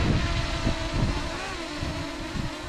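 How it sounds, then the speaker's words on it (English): Strong gusts of wind buffet a DJI Mini 2 drone in flight, a steady rushing roar with rumbling low-end microphone buffeting that swells and pulses throughout. "here comes a very good gust of wind"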